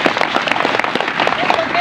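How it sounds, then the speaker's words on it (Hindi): An audience at a Sailana political gathering in Madhya Pradesh breaks into applause to welcome a new state vice-president, a dense patter of hand claps with voices mixed underneath. "ताली बजाकर इसका स्वागत करें"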